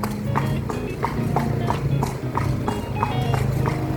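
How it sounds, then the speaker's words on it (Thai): Horse hooves clip-clop at a steady trotting rhythm while the horse pulls a carriage through Lampang city at night, loud and close over the rolling rumble of the carriage. "ดูพี่ม้าเขาวิ่งเหมือนไม่เหนื่อยเลยนะ"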